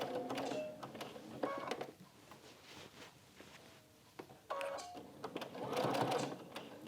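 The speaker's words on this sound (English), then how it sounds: "And very carefully sew across the pins, or slide them out before you get to them." A sewing machine runs in two bursts, stitching across pinned quilt blocks to join them in a quilt-as-you-go project, with a pause between runs and a whirring, close-up motor and needle sound.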